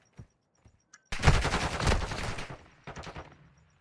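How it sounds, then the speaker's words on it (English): Gunfire in a competitive shooter video game match, with a few faint isolated shots, then a loud sustained burst of rapid automatic fire that tapers off, and one shorter burst near the end. "As Aggie's coming for the challenge, he's going to get some bullets put into him"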